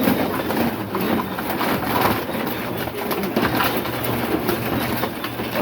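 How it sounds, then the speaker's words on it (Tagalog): Pigeons, hens and cocks, gather to be fed, cooing steadily and close by over a constant rustle of wings and movement, with no talking. "So ito yung hen natin mga kalapatids, dito yung cock. Ito na sila mga kalapatids."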